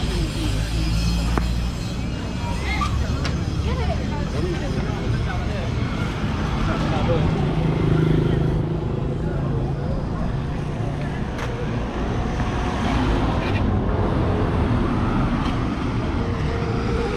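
Traffic rumbles continuously along the main road in Serekunda, with engines and passing vehicles close by, while someone talks over the noise.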